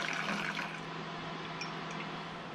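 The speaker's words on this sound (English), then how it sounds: "So I'm going to pour that into this bottle." Homemade distilled spirit is poured from a jug into a bottle in a kitchen, a soft, steady trickle and gurgle of liquid running for a couple of seconds.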